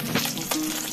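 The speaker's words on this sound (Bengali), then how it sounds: "আমি এখন মাছ ভাজছি।" Small fish sizzle in hot oil in a pan, a close, steady crackle with a couple of brief louder pops within a short moment.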